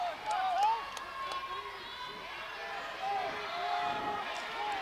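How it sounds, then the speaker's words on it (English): College wrestling arena crowd building during a tense match, a low, rumbling murmur of many voices growing louder, with scattered shouts and a few claps, fairly distant. "Crowd slowly starting to ramp up."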